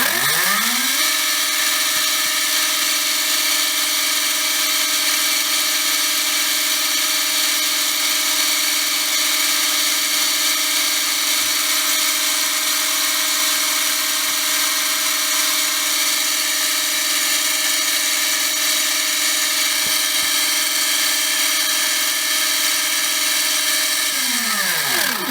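A Trinity Double Down 17.5 Outlaw brushless RC motor with a 28-tooth pinion spins up on a test stand, holding a loud, steady high-pitched whine for about 25 seconds before winding down at the end.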